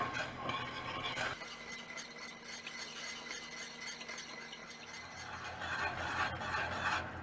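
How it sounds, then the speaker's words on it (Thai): A utensil scraping and stirring dipping sauce syrup in a pot over a medium-low gas flame, soft continuous rubbing strokes with a steady low hum underneath, fairly quiet and close. "แล้วก็คนไปเรื่อยๆ นะคะ จนกระทั่งส่วนผสมละลายเข้ากันดีค่ะ"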